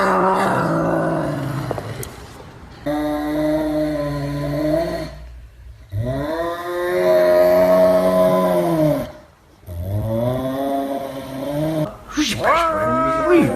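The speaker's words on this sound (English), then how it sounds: "This is an F1 Savannah cat" An F1 Savannah cat gives several long, drawn-out, yowling wails separated by short breaks. The calls are loud and close, with a final rising cry at the end.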